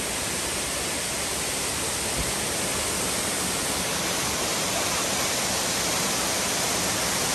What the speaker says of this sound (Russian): водопад. Обалденно красивый. Каскадами прям так сливается водичка.